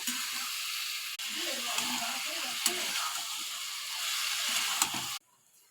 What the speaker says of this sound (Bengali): গরম তেলের উপরে দিয়ে দিয়েছি, দিয়ে এটাকে একটু নাড়বো চাড়বো